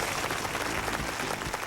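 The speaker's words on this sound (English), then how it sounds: "and all this applause is for you." Studio audience at a television game show applauding, a brief, steady wash of many hands clapping at close range with no voices on top.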